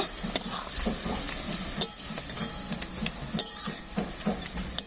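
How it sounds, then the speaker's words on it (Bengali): A spoon works through vegetables in a pan with salt and turmeric, making soft scraping, stirring sounds with sharp metallic clinks at irregular moments over a faint, low background. "দেব একটু লবণ একটু হলুদ নেড়ে নেব"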